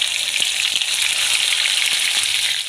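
Ground spice paste hits hot oil in a pan with roasted garlic, giving a loud, close, dense sizzle with a few faint taps underneath.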